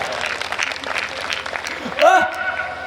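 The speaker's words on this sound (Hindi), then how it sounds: "ताली वाली बजाओ।" Audience clapping at a Hindi comedy poetry gathering (hasya kavi sammelan), a steady wash of applause for nearly three seconds, with a short louder tonal voice-like burst near the end.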